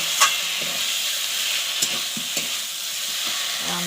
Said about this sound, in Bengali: মাছটা দিয়ে আলুগুলো ভালোভাবে কষে নিচ্ছে